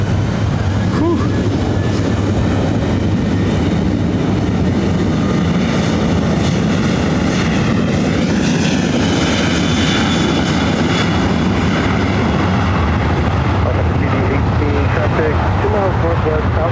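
A jet airliner roars down the runway at full takeoff power at LAX, a loud broadband engine rush that holds steady and builds for the whole stretch, with a person's voice cheering over it near the start.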